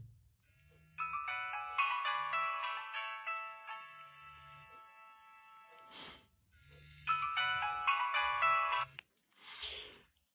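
A Nokia 1650 phone's bright electronic ringtone plays a quick repeating melody, loud and close, twice with a short pause between, plus faint handling noise.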